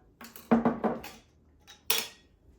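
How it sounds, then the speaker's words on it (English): A whisk clatters against a bowl in a home kitchen in a few quick, close bursts of scraping and tapping, then stops briefly before one last loud rattle, with no voices. "And then I'm going to mix it up with the whisk."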